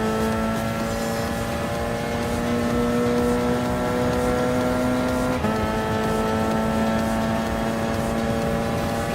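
A race car engine in Gran Turismo Sport at Circuit de la Sarthe, held at a steady high-pitched drone for several seconds, then a quick gear shift and the whine continuing at high revs.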